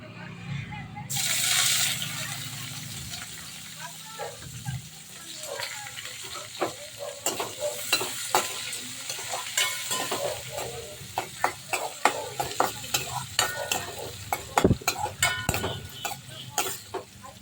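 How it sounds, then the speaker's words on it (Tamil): Chopped onions sauté in hot oil with tempering spices and chana and urad dal for coconut rice. A loud sizzle rises early, then settles into a steady crackle, broken by repeated sharp clinks and scrapes of a spoon stirring the pan. "இப்போ வெங்காயம் லைட்டாக வதங்கினா போதும்"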